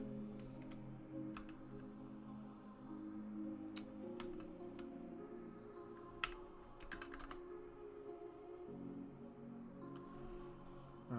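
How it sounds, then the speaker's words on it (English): Rapid, irregular clicking of fingers typing on a computer keyboard, close and fairly quiet, with scattered sharper key strikes and no voices. "I'm typing this out because I don't think I learn it as well if I don't type it out."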